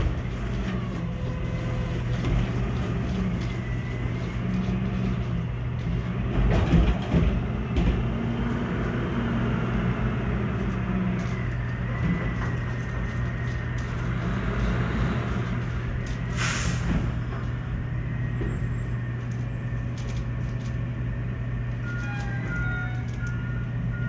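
A garbage truck backs up near an apartment balcony, giving off a steady low engine drone with faint mechanical whines. It holds at a fairly constant loudness throughout, with no voices.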